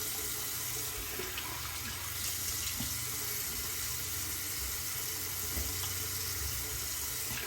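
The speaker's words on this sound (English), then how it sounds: "Let me clean up here with cold water." Cold tap water running into a sink during a rinse after shaving, a steady close hiss of flowing water that holds evenly throughout with no voices.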